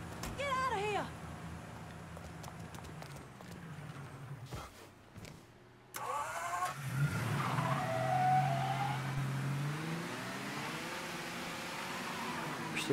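Car engine and tire skids in Mafia 3 Definitive Edition, a convertible driven through the game world: a squeal early on, a brief near-silence mid-clip, then a steady loud engine drone with tire noise, with voices talking over it.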